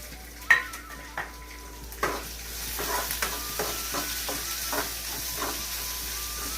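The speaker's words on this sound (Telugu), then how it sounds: "తాలింపు వేగింది చక్కగా." Tempering for chukkakura (sorrel leaf) dal frying in a pan, a steady sizzle and hiss with several sharp utensil clinks and stirring knocks near the start.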